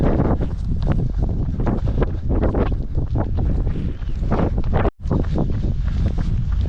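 Strong coastal wind buffets the microphone near Padstow, a loud, roaring rumble that churns continuously, broken only by one momentary dropout.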